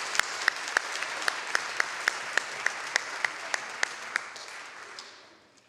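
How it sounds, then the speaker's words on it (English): Crowd applause for student athletes at a school athletic awards presentation, a steady wash of clapping with a few sharp, regular claps standing out, fading away over the last second. "Another round of applause."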